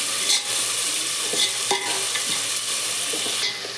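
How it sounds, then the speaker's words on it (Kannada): Ginger is stirred into a sizzling mixture in a frying pan, with a steady fry hiss and intermittent scraping clicks of the spoon against the pan, no voices. "ಶುಂಠಿ ಹಾಕೊಂಡು ಈಗ ಮಿಕ್ಸ್ ಮಾಡಕತ್ತೀನಿ ನೋಡ್ರಿ"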